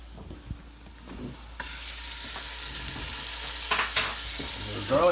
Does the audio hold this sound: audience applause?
no